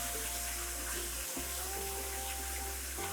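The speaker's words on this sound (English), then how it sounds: "Look at that, you can hear the sizzle." Sea bass sizzling on an oiled hot grill plate at a fish restaurant in Funchal, Madeira, a steady close hiss with a low hum underneath that briefly drops out.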